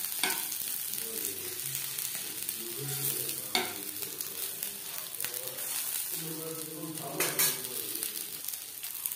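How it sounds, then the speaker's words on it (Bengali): Fish frying in a pan on a gas flame gives a steady, close sizzle throughout, with soft stirring and scraping of the pieces under the crackle. "তিন 4 বার উল্টে পাল্টে ভেজে নিয়েছি।"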